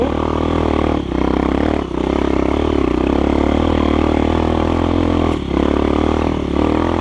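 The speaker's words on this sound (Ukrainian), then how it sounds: "Ніби він якийсь ніби тихий, не рве вуха, але він так кричить, якось такий прям низовий вихлоп" A GEON X-Road 250 PRO motorcycle, new with about 2000 km, runs steadily with a low, deep exhaust note and a constant engine drone, broken by a few brief dips that may be gear changes.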